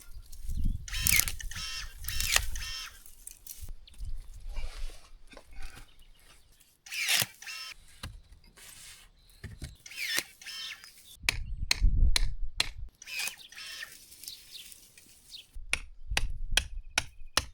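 Hand shears snip through overgrown rosemary bushes beside a garden path in rural Portugal, sharp clicking cuts arriving in irregular bursts and quick runs of snaps, close and moderately loud, with rustling foliage between them.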